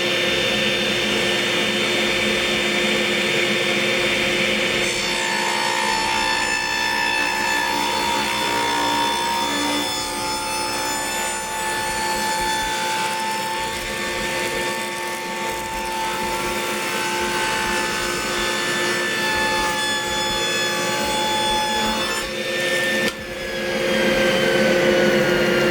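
Steady power saw ripping through a wooden board being straightened flat, a continuous loud whine holding for most of the run before winding down near the end, with no voices.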